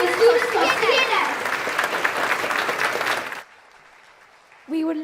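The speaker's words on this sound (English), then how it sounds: "please give a huge round of applause for that fantastic performance by the students of CNS" Audience applause after a student performance at a school Independence Day celebration, dense clapping from a crowd for about three and a half seconds that cuts off abruptly, followed by a brief voice at the end.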